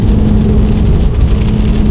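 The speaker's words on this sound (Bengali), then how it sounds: "বৃষ্টি কিন্তু হচ্ছে, আপনার বৃষ্টি শুরু হয়ে গেছে" Steady rain falls outdoors in rural Bangladesh beside a fishing spot, a dense continuous hiss with a strong low rumble, close and loud with no voices.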